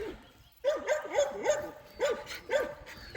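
A West Siberian Laika dog barks and yips repeatedly at close range, in uneven bursts of sharp barks with short whimpering tones between them.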